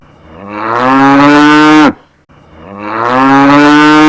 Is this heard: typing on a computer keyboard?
no